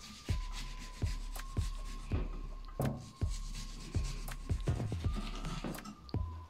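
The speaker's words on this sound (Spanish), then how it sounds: "Vamos girando la cebolla y le vamos cortando." A knife cuts through an onion on a board in a steady series of crisp chops, each a sharp tap roughly once per second, close and clear, with no talk.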